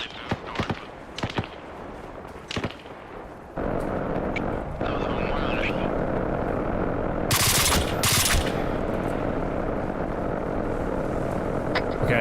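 Bursts of gunfire in Arma Reforger rattle close and loud, some in rapid automatic strings, over a droning background that may be a helicopter.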